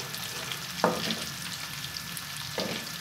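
Cumin seeds and garlic frying in a pan, a steady low sizzle with two distinct stirring scrapes, the first sharper, each followed by the sizzle settling back, no voices.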